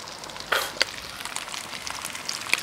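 Onions, garlic and bacon with potatoes sizzle and crackle in a pan on a gas grill, with a steady frying hiss and occasional sharp pops close by.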